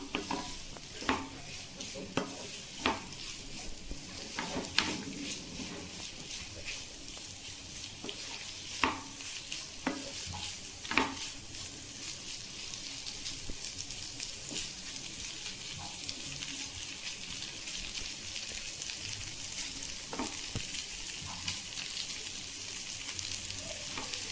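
Fish pudding (meen puttu) being stirred and fried in a pan, steady sizzling broken by repeated sharp scraping clicks of a spoon against the pan, an irregular rhythm that carries on throughout.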